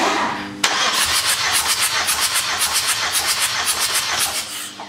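A SsangYong D20T diesel engine is cranked by the starter during a compression test, a rhythmic pulsing churn repeating steadily and loudly for several seconds without catching.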